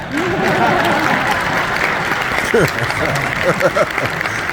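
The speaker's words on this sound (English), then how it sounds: "That was your time to clap." Audience clapping at a speaking event, a continuous wash of applause with whoops and voices rising through it, fairly loud and sustained.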